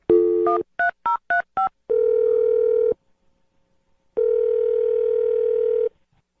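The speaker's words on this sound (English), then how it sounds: "we're going to dial Chloe's phone number for you" A telephone dials a number: a quick series of short DTMF keypad beeps, then two long, loud steady ringback or dial tones separated by a silent pause, heard close and clear with no talking.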